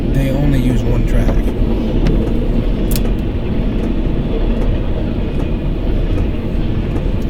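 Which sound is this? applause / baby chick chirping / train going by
train going by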